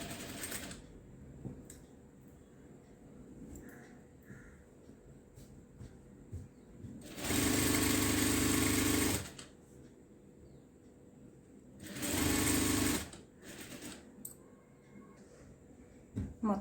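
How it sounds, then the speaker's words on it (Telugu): Sewing machine stitching a straight seam on cutwork fabric, running in two loud steady bursts of a couple of seconds each, separated by quiet handling noise. "అలాగే ఇలా స్ట్రైట్కి కూడా ఒక కుట్టు అయితే వేస్తున్నాను."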